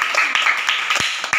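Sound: classroom clapping for a student

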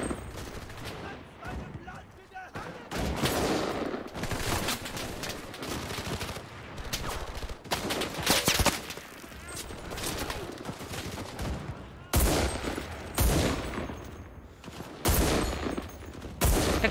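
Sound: gunshots in a video game

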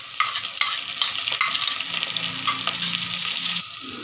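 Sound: garlic ginger paste frying with onions, stirred

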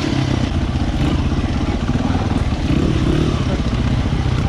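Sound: Honda XR100R dirt bike engine riding through mud

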